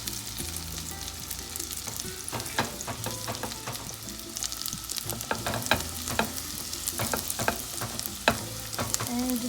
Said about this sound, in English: We're gonna mash and fry. Toss our canned beans in.